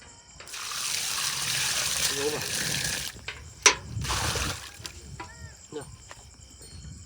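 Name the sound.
water being poured while planting trees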